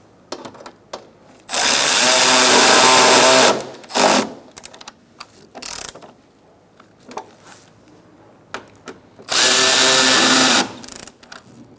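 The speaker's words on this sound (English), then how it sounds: "Start them by hand and then tighten them down." A power tool, likely an impact driver or drill, tightening bumper impact absorber bolts on a 2012-2018 Ford Focus: two loud sustained whirring bursts with short rattling taps between them, close up, no talk.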